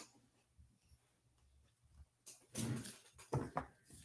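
A dog whimpers softly, then gives a few close, loud barks and yelps in short bursts indoors.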